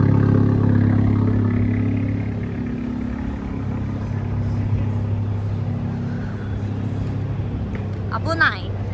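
An expensive car's engine rumbles past on a city street in Tokyo's Ueno area, strongest at the start and then fading into a steady traffic drone, with brief voices near the end.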